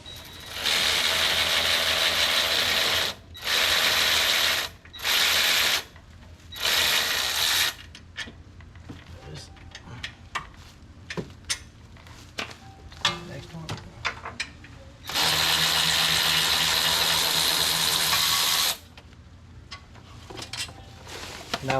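A ratchet wrench clicks in long, loud bursts while the brake caliper is removed from a Land Rover LR3 parking brake. Four quick runs come early, then a longer sustained stretch, with scattered clanks and handling noises between them.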